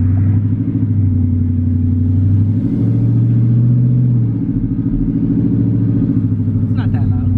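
A twin-turbo Ford F-150 engine, not yet tuned, revs on a dyno in a shop, a loud steady low rumble rising and falling across several seconds with no boost, continuous and close.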